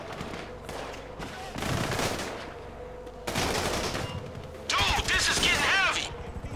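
Bursts of automatic gunfire and rattling shots from Grand Theft Auto V come in three loud waves over noisy game ambience, the last carrying ringing metallic pings.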